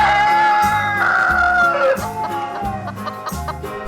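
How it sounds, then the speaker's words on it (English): A cartoon rooster crows loudly in a long drawn-out call with some clucking, set against a rhythmic children's music track and no voices. "This is a rooster."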